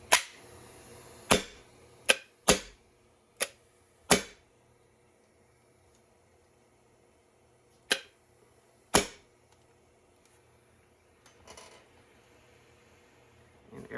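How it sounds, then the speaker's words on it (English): A prototype Nerf HPA semi-automatic blaster fires sharp, loud pneumatic snaps, irregularly spaced, several in quick succession and then a few more after a pause, over faint background hiss. "So it is firing the HPA core"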